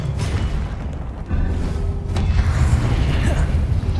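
A Depulso force spell goes off in the Hogwarts Legacy video game during a boss fight, a loud booming blast with a thudding burst near the middle over dense low rumble and game background.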